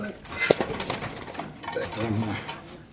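Racing pigeons at a seller's loft coo softly in short bursts, close by, mixed with people talking.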